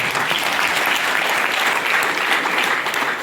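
A hall audience at a local development foundation-stone event claps loudly and steadily, dense crowd applause sustained without talk.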